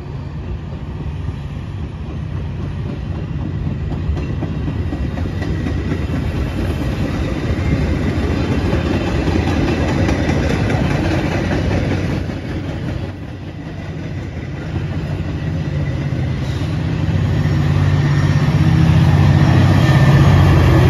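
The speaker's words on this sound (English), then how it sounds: "a very long double-deck train pushed by a very heavy, loud, polluting diesel locomotive" Loud, steady rumble of a heavy diesel locomotive pushing a long double-deck Metra commuter train, a deep engine drone with faint clatter, growing louder toward the end.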